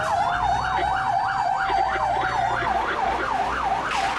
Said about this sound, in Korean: 경적의 사이렌을 울리는 소방차를 보고도 대부분의 차량들은 전혀 양보하지 않고